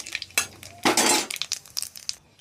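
Whole cumin seeds being stirred in a pan with a utensil, a series of sharp metallic clinks and scrapes, one longer scraping stroke, close and fairly loud.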